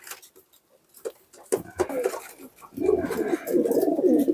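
Pigeons coo close by in low, throaty, rolling calls, starting with a few soft bursts and building into steady overlapping cooing.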